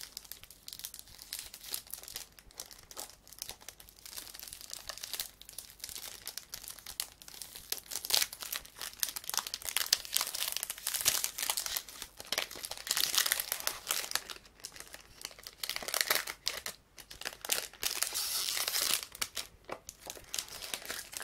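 Cellophane wrapping on a perfume box crinkles and crackles continuously as it is unwrapped, close and detailed, with busy rustling bursts and short pauses throughout.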